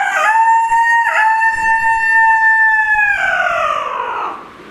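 A man imitates a rooster crowing with his voice, a single loud, sustained tonal call that holds steady, then slides down and fades at the end.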